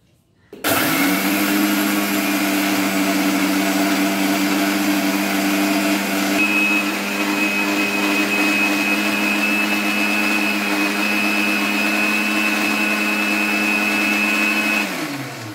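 An electric mixer-grinder whirs steadily for about fifteen seconds while grinding coconut and green chillies into a spice paste, starting abruptly, holding a loud even motor hum with a slight pitch shift midway, then winding down.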